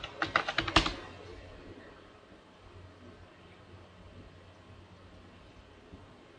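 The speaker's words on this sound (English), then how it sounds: "Type the password." A computer keyboard clatters as a password is typed during a Windows Server 2008 installation: about six quick close keystrokes in a short burst, then a faint low hum.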